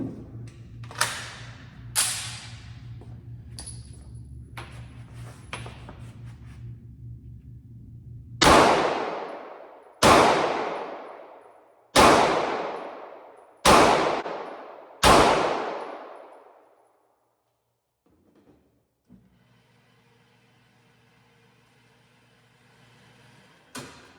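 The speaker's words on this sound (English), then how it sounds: "I am going to shoot for that little heart area to see how accurate I can get" Springfield 2011 Prodigy pistol fired at a target: five sharp, loud shots at a steady pace, each with a decaying echo, preceded by smaller metallic clicks and clanks over a low background hum.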